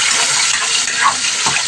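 Water poured from buckets onto a patch of saluyot plants on a farm, a steady broad gushing splash running loud and close throughout with no talk.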